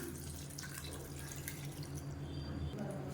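Water is poured into a cooking pot while a sambar-style side dish is being made, a soft steady trickle and splash with dripping over a low background hum, moderately faint and without any voices.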